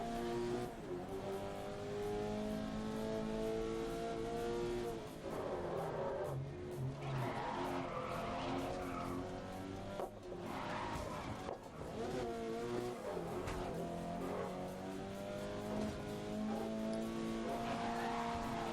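Subaru BRZ race car in the racing game GRID, its engine droning and shifting through harmonic revs for the whole run, with tires squealing in places, loud and continuous with no voices.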